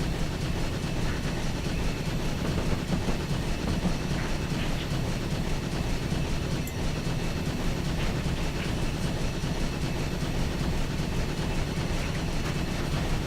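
A GWR steam locomotive, 3440 City of Truro, runs hauling ten coaches from Paddington to Reading in Train Simulator 2013, giving a steady, continuous low rumble and rolling rail noise throughout, with no talk.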